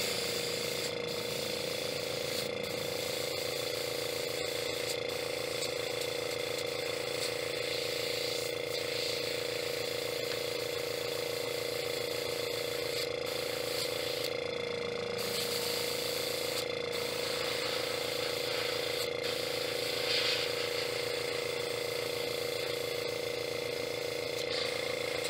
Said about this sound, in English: I loaded that up into my airbrush here. And I'm going to go ahead and paint this, the entire thing,